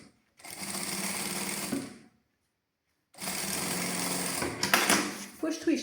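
A sewing machine stitches bias binding about a millimetre before the fold in two loud, close bursts of rapid whirring separated by a pause of about a second, with fabric handling noises at the end.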